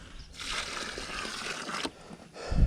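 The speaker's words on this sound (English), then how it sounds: "now we're going to go through and put water." Water is poured onto the soil around a newly planted pawpaw tree, a close rushing splash lasting about a second and a half, then a quieter trickle.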